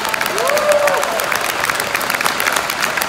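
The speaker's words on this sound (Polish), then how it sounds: "Jeszcze raz wielkie brawa." Audience applause at an opera concert fills a large hall: steady, dense clapping from a crowd, loud and continuous throughout, with a faint sung or spoken tone briefly rising over it.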